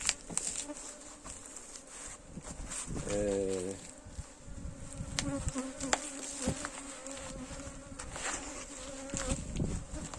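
Honey bees buzzing around a hive being calmed with primitive smoke, a steady dense drone of many bees with a brief louder hum passing close by.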